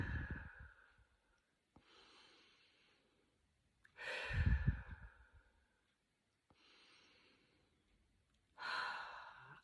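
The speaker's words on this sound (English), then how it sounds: "Take in 3 really nice deep breaths." Three slow, deep breaths, each a soft inhale followed by a longer, louder exhale, heard close and quiet during a calm guided meditation, with long pauses between them and no talking.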